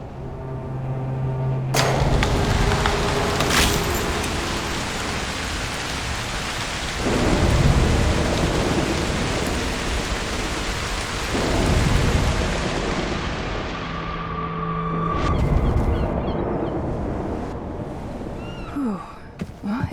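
A video game thunderstorm with heavy steady rain, broken by several deep rolling thunder crashes that swell and fade one after another, with a sharp crack near the start.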